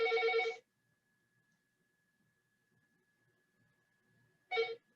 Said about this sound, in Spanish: Ay, teléfono.